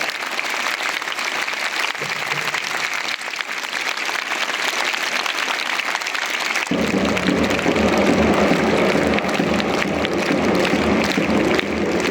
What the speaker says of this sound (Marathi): टाळ्यांचा पाऊस झाला पाहिजे जोरात